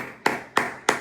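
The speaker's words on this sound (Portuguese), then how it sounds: "Palmas!" Three sharp hand claps, evenly spaced about a third of a second apart, close and crisp against a quiet background with no talk.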